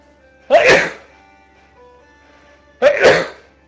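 Two loud, sharp sneezes from a person during a sneezing fit, about two seconds apart, each a sudden burst standing alone against near silence.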